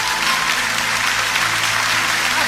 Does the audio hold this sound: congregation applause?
yes